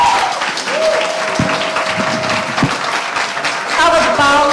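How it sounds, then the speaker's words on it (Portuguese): Audience at an official event honouring Bolivian President Luis Arce breaks into sustained, loud applause filling the room, with a steady tone and a few thumps underneath and a voice speaking near the end. "Salva de palmas, o presidente Luiz Alberto Arce."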